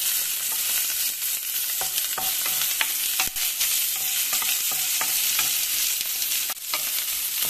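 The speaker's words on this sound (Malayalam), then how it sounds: "കുറച്ച് കാപ്സിക്കം അതിൻ്റെ ഇട്ടിട്ട് ഒന്ന് വാട്ടി" Capsicum sizzles steadily while it is sautéed in oil in a pan for a chickpea salad, with occasional spatula stirring clicks over the continuous frying hiss and no talk.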